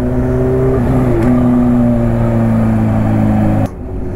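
A Kawasaki H2 motorcycle engine pulls hard on open roads, its loud, steady tone dropping quickly at each quickshifter gear change, then cutting off sharply near the end.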